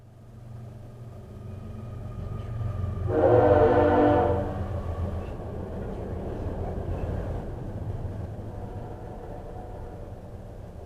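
A train rumbles past steadily, a deep continuous roar, with a loud horn blast sounding for about a second partway through.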